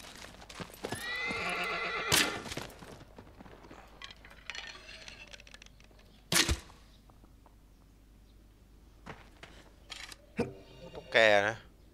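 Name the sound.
horse hooves and neighing in video game Shadow of the Colossus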